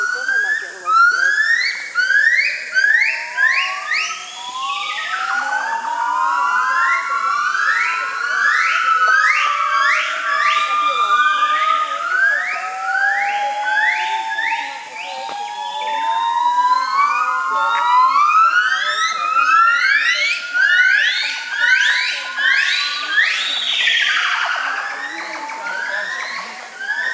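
A gibbon sings in the afternoon at Cat Tien, a long series of loud rising whoops, rapid swooping calls climbing in pitch and repeating in excited bursts, with no other voices.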